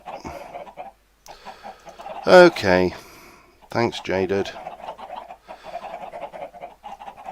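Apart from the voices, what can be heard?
chickens clucking in video game Agrarian Skies (Minecraft)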